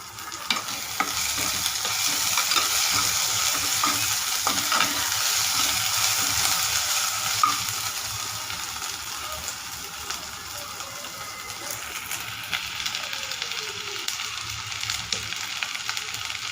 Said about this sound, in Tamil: நல்லா வதக்கி விட்டுருணும். நல்லா வதங்கிடுச்சு.